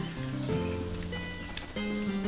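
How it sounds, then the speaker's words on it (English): Rain falling in the Harvest Moon farming video game, a steady hissing patter under simple tonal game music, continuous and moderately loud. "Oh my god, it's raining."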